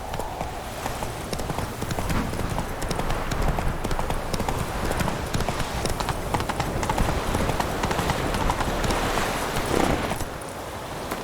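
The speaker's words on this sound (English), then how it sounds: "Run, Roach." Horse hooves clip-clop at a steady gallop in The Witcher 3, loud and close with continuous rhythmic thudding over outdoor game ambience, some faint voice mixed in.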